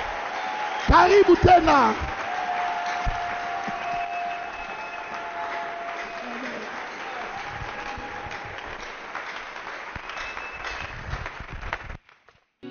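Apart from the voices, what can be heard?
church congregation applauding and acclaiming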